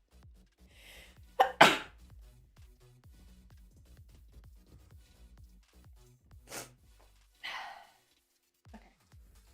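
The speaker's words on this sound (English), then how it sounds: "I'm going to sneeze." A person sneezes sharply and close up, followed a few seconds later by softer breathy exhales, with quiet background clicks between.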